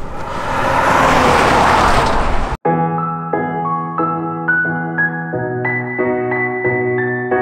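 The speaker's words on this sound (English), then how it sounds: "I'm gonna wait for this car to go by." A car passes on a road leaving the Idaho mountains, a loud, steady rush of tires and engine for about two and a half seconds that cuts off abruptly into music.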